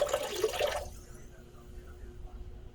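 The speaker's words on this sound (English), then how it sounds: "And it says to pour it in slowly, otherwise you might overflow the toilet" A pot of water poured into a clogged toilet, a brief rushing splash in the first second that cuts off abruptly, leaving a quiet room hum behind it.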